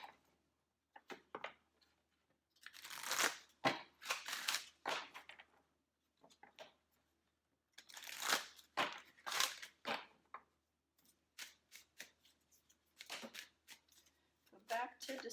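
Angel cards shuffled by hand in repeated bursts of riffling and sliding, with brief pauses between rounds, close and fairly loud.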